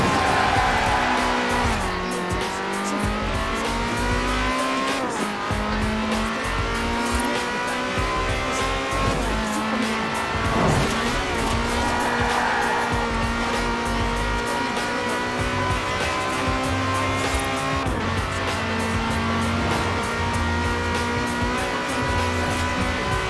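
A Lamborghini Countach roars through a Forza Horizon 4 race, its engine holding a loud, continuous pitched drone that shifts with gear changes while tires squeal and skid repeatedly throughout.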